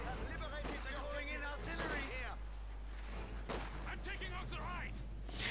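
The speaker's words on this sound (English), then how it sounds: "He's calling in his own artillery now." Artillery shells thump and crack in a Company of Heroes 2 battle, a few heavy impacts scattered under steady in-game combat noise and quick, overlapping speech, all fairly faint.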